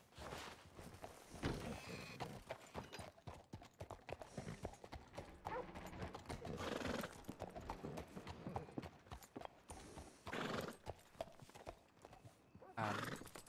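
Horse hooves clip-clop repeatedly and a horse neighs in Red Dead Redemption roleplay, the rhythmic hoofbeats close and prominent with occasional thunks, alongside bursts of whinnying.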